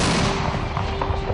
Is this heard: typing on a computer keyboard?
no